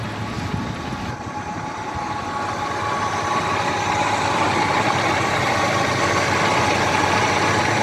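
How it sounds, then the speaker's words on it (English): A 1971 Chevrolet El Camino engine idles after sitting for 24 years, a loud, steady rumble that holds for the whole stretch and swells slightly after the first few seconds. "Oh, is she gonna idle? She is."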